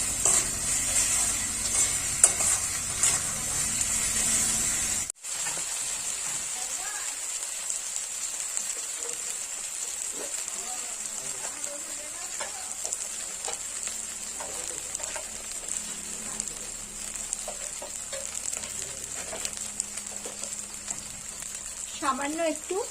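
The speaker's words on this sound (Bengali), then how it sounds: "ভালো করে মশলাটা একটু কষিয়ে নেব" Chicken masala sautéing in a pan with little oil, a continuous close sizzle and hiss that drops sharply after a few seconds, then lighter frying with occasional utensil scrapes.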